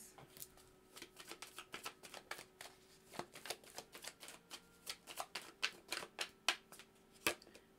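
Chakra cards are shuffled close by in a quiet room, a rapid run of soft riffling flicks and taps in an uneven rhythm.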